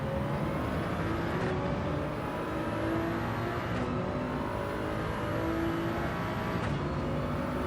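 A race car engine in the Gran Turismo 7 driving game revving continuously, its pitch repeatedly climbing and then dropping sharply at each gear shift, loud and steady with no voices.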